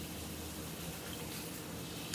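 Water poured into a Bourbon Street chicken sauce of vinegar and Worcestershire sauce, a faint, steady hiss of running liquid with no talking.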